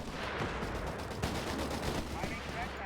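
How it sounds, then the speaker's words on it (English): Gunfire from a Stuart light tank in the Company of Heroes 3 video game, heard as rapid overlapping bursts of shots within a dense, loud battle din, with a voice talking throughout. "Panzerjägers advancing under fire here from the Stuart Light Tank"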